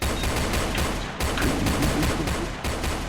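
Rapid bursts of gunfire in the Roblox game Brookhaven: loud, repeated shots in quick succession, dense and punchy, with no talk over them.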